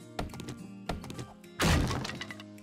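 Heavy wooden thunks from an axe striking and breaking an object in the survival game 7 Days to Die, two separate hits followed by a louder crashing break, close and without talk.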